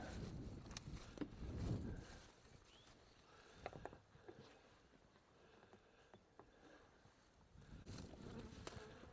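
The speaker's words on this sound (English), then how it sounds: "You see all these bees? That is full of bees." A steady swarm of bees buzzes continuously up close, with sharp clicks and scrapes now and then; no voices.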